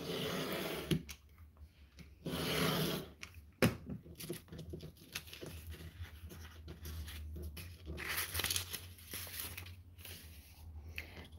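Paper pages being cut against a ruler for bookbinding with floppy disks: soft, close scraping and slicing strokes, with light paper rustling and taps between cuts.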